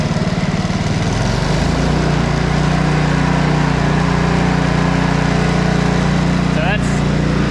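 Small lawn mower engine with a broken governor arm spring running at fast throttle, a loud steady buzzing drone that settles into a constant high idle, close up and continuous, with a brief higher mechanical chirp near the end.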